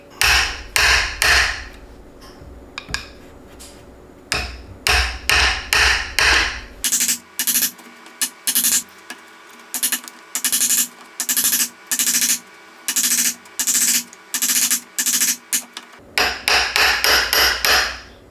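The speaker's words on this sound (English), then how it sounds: "we'll make a series of notches so that we can remove the material a lot easier" A hammer drives a chisel into wood to cut a row of notches for a door hinge. The close, sharp, evenly spaced strikes come in quick bursts, pause, then resume.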